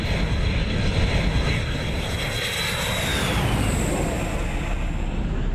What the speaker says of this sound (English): Su-24 coming in, its payload gone, obviously after a mission.